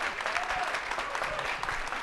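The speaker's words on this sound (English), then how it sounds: "please join me in a round of applause for the original, some of the original crew of Startup Calgary" Steady applause from an audience at an innovation week launch party showcase in Calgary, a dense, continuous patter of many hands clapping close by throughout.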